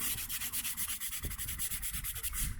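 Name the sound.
brush scrubbing grout of driveway paving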